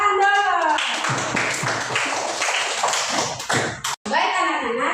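Children in a religious education classroom clap their hands in a quick burst of sharp, close claps, with talking before and after the clapping.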